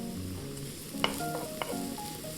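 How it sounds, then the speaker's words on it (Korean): White parts of scallion frying in cooking oil in a pan, a soft steady sizzle with a couple of light utensil clicks over faint background music. "팬에 식용유를 두르고 파의 흰 부분을 넣어서 파기름을 내줍니다."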